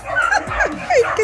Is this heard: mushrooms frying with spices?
no